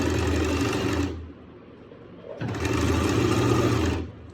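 An electric sewing machine stitching lace onto a salwar runs in two steady, whirring bursts of about a second each, separated by a short pause, close and clear with no talking.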